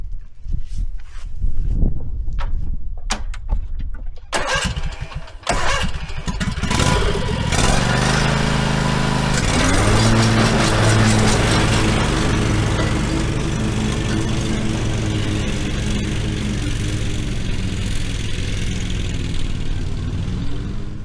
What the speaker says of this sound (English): All right, time to go mowing.